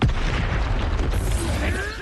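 Expulso explosion spell in Hogwarts Legacy, a dense rumbling boom that fills the clip, loud and sustained with crackling debris, mixed with other game combat noise.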